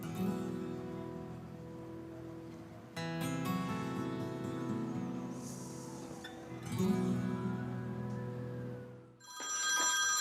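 A telephone rings repeatedly with an electronic bell tone in a Turkish drama scene, the rings coming in loud bursts one after another close by, alone with no talk over it.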